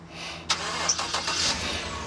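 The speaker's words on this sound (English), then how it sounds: "Dick, get the truck started. Start the truck." A truck engine cranks and catches with a sharp start, then settles into a low running rumble that continues to the end.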